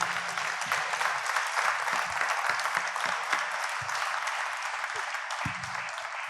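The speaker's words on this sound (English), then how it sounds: "let's clap it up for Malcolm Brogdon" Audience applause at an athletes' forum event, a sustained, dense crowd clapping heard up close, with a few voices faintly mixed in.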